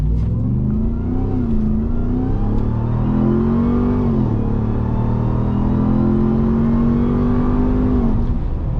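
A Mopar Hellcat-engined car accelerates hard through repeated gear pulls, its loud, close engine note climbing in pitch, dropping at each shift, then rising again, with no talking.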